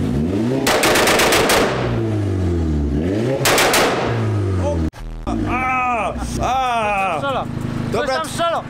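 Modified Chevrolet Camaro ZL1 engines rev loudly with sharp, rapid exhaust pops and crackles like gunfire, two cars blipping repeatedly up close, followed by another revving engine as people talk excitedly over it.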